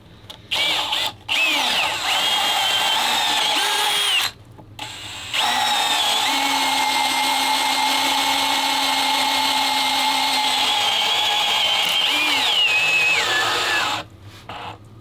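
A close, loud electric drill whines steadily as it bores into wood, its pitch dipping under load, with a few brief stops and restarts.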